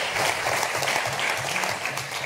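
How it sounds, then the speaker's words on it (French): A conference audience at the EGCS 2025 morning close applauds, with dense, continuous clapping filling the short stretch at moderate loudness. "On peut l'applaudir."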